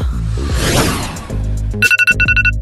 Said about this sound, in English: Ugh, annoying ringing.